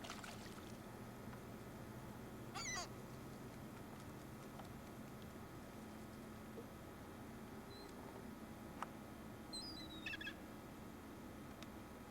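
Birds calling outdoors on a fishing trip, a few faint short squawks and chirps scattered over a steady background hum of water and engine noise.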